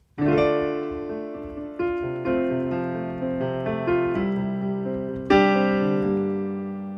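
Piano plays the slow intro chords of a song, each struck cleanly and left to ring, with a brighter chord near the end.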